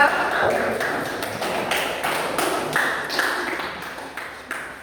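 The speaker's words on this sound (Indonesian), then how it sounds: "Kita beri tepuk tangan untuk kelompok 2" A classroom gives a group of students a round of applause, a dense patter of many hands clapping at once, steady and fairly close, tapering off toward the end.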